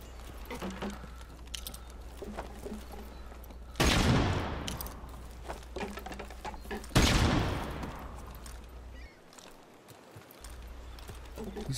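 Bursts of rapid machine-gun fire in a first-person shooter game, two loud sustained volleys standing out against quieter background game sounds and occasional lighter clatter.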